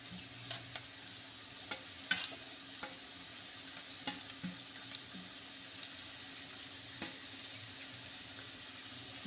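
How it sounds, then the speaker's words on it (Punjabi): Soybean crumbs frying in a pan, a faint, steady sizzle with scattered soft clicks of stirring, no voices. "ਅਸੀਂ ਸੋਇਆਬੀਨ ਦਾ ਚੂਰਾ ਪਾ ਰਹੇ ਹਾਂ ਜੀ"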